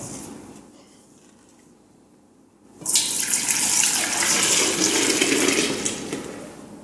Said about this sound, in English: So go ahead and pour it in there for us, Ezekiel.